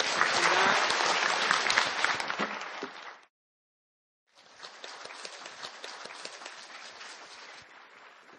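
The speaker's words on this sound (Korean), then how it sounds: "박수 해주시기 바랍니다." A lecture audience at a Bank of Korea economics talk on the world economic outlook applauds in a steady burst, breaks off for about a second of silence, then resumes with softer, more scattered clapping.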